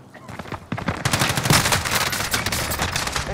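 Automatic gunfire in Call of Duty: Warzone on Rebirth Island, rapid bursts of shots that grow dense and loud after a soft start, with a voice speaking faintly underneath.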